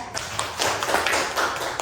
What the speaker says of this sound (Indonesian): tepuk tangan dulu untuk saudara